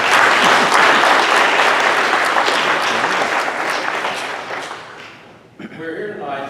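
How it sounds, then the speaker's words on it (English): Dense applause fills a hall of fame induction ceremony, a crowd clapping loudly and continuously before fading out, followed by a voice speaking. "I'd like to give them all a round of applause"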